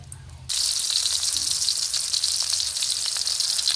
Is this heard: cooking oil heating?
yes